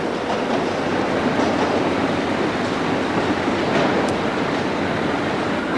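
Train rolling through a station at steady close volume, a dense continuous rumble of wheels and carriages with faint rail clatter and a brief squeal near the end, no talk over it.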